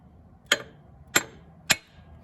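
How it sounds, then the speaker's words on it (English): Three sharp metallic taps of a hammer against an MGB engine's water pump to break it loose, evenly spaced and close, each ringing briefly in a quiet garage. "I'm just going to tap it gently here."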